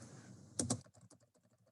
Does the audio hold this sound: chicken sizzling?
no